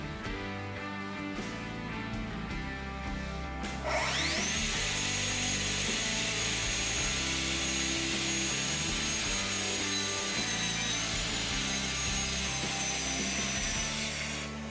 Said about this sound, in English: I use a cordless track saw